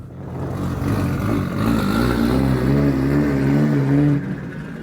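Engine of a LADA car fitted with a 2JZ-GTE engine, heard from inside while driving slowly, a loud close drone rising in pitch as it pulls away through the gears, no talk.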